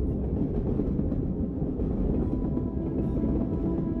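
Train wheels roll steadily over rails in a continuous low rumble heard from inside a carriage, even and unbroken with no voices.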